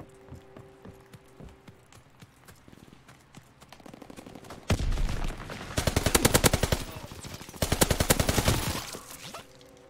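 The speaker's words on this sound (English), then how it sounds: "Three of the enemies shooting at me." Enemy gunfire in Call of Duty WWII multiplayer, starting with scattered shots and then loud, rapid automatic bursts hammering near the player in several long strings, with no talk over them.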